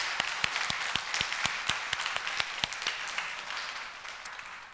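A church congregation claps for the choir at a Christmas service, a sparse run of sharp, individual claps over a soft wash of wider applause that gradually thins out, heard from a moderate distance.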